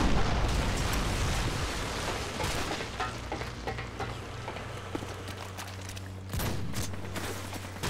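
A Predator missile strike in Call of Duty Modern Warfare 2 comes as a heavy, rumbling blast amid crackling gunfire, followed later by a second sharp burst, all loud and dense.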